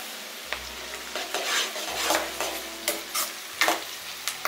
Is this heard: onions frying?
yes